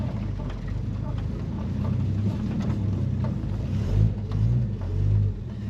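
A 1953 Chevrolet six-cylinder with dual exhausts and highway gears drives along, its low engine drone steady under wind buffeting and cabin noise, swelling a little toward the end.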